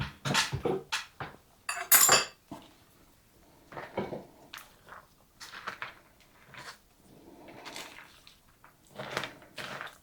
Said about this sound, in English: Give this a good stir right quick.